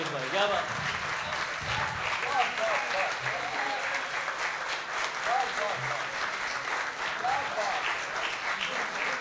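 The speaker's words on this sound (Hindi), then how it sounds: "एक बार फिर से जोरदार तालियों से अभिनंदन कीजिए पीयूष शर्मा जी का।" Audience at a university poetry and shayari event applauding poet Piyush Sharma, with a steady full round of clapping throughout and a voice speaking over it.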